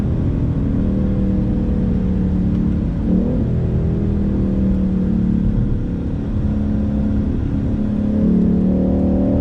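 A 2019 Ford Mustang GT California Special, without the active exhaust, rumbles steadily while driving. The deep engine drone holds loud throughout, with a brief swell of revs near the middle and another toward the end, and no talk over it.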